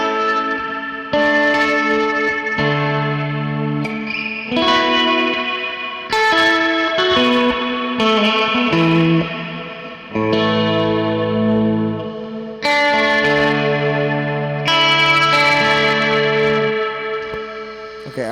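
An electric guitar through a Meris Mercury X reverb pedal set for worship tones plays a slow sequence of chords and notes, each blooming into a long, washy tail, with no talking over it.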